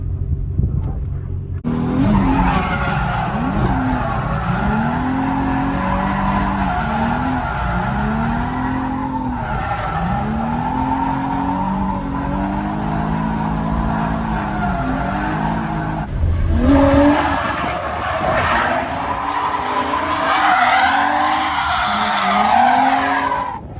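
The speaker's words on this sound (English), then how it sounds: "I drove this car down to Riverside to Adams Motorsports Park where I did a night drift event" A drift car at a night drift event at Adams Motorsports Park in Riverside, with a revving engine and long, loud tire squeals that rise and fall repeatedly as the car slides through corners, with no talk.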